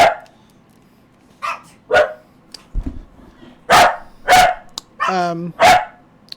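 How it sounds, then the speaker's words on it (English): A dog barks several times in sharp, separate bursts, close by, with one drawn-out whining yelp among them. "I'm sorry for all the dog barking."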